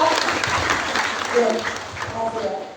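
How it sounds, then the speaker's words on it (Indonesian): Audience clapping at a lively civic gathering with an Indonesian regency official, a busy patter of hands at moderate level with voices talking over it. "Ya, tepuk tangan, yuk"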